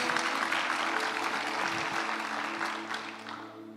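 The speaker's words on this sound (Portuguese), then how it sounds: "Dê um aplauso ao Senhor por isso." Church congregation applauding during a service, a broad wash of clapping with sustained keyboard or organ tones beneath, slowly tapering off.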